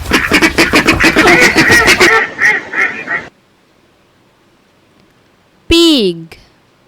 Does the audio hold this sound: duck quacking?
yes